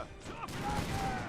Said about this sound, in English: had my Vortigears and my fusiliers frantically firing on them so I can rout them quickly